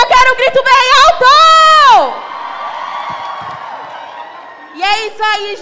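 A crowd of young people at a community event in Heliópolis, São Paulo, lets out loud, sustained cheering and shouting, a long swell of voices that dies down before a second short burst of yells.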